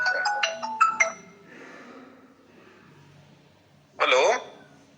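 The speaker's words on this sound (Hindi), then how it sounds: "एक मिनट, कोई फोन आ रहा है" A mobile phone ringtone plays a quick bright melodic phrase, pauses under a quiet room hum, then sounds again briefly, near and clear, with no talking.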